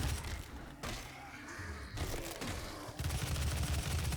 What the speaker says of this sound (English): Eat my fucking assault rifle